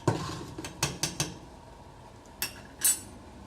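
Metal clanks and clinks as a pot of dal makhani is pulled off the stovetop, a handful of short knocks and scrapes close by in a quiet kitchen, with a brighter clink near the end.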